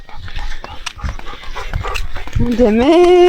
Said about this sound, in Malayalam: പട്ടിക്ക് ക്യാമറ ഇഷ്ടമല്ല